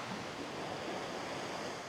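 Surf washing onto a beach shore on Phu Quoc island, Vietnam, heard as a steady, soft broadband wash with no distinct breaks, fairly faint and continuous, with no voices.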